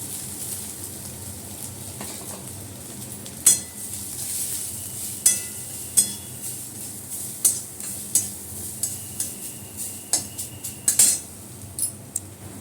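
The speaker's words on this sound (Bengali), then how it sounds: "তেলের মধ্যে শুকনো লঙ্কা ফোড়ন দিলাম, একটু পাঁচফোড়ন দিয়ে দিলাম" Dried red chillies and five-spice tempering crackling in hot oil for a coconut and pineapple chutney. A soft sizzle runs throughout, with sharp, evenly spaced clinks of a spoon against the pan.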